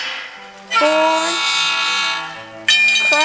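An electronic horn from a Lego City Cargo Train 60198 blares twice, a steady tonal honk that cuts off briefly and then sounds again, loud and close.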